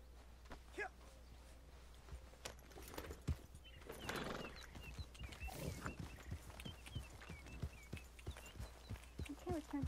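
Horse hooves clip-clop in an irregular walking rhythm with a brief whinny, set in the Western video game Red Dead Redemption 2, heard close over a low steady hum with occasional background voices.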